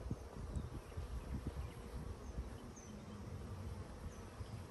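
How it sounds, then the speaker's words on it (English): A steady hum of many bees buzzing around a hive, close and continuous, with no voices. "We just got a lot of bees putting in a lot of work."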